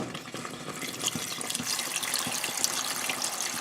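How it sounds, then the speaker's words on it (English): Water pours from a pot into a pot of beans being cooked Dominican style, a steady close gushing splash with no talking over it. "So I added water, then I will mix the beans."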